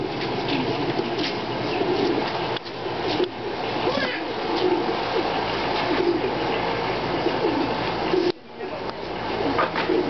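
Pigeons cooing in a racing pigeon loft, a steady low warble of birds close by with occasional wing flutters, while people talk over them throughout.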